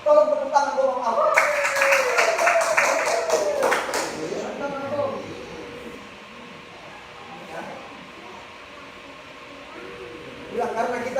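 Church congregation clapping together during a revival service, a dense burst of many hands for a few seconds right after a preacher's voice, then fading into quieter room sound with spoken voices.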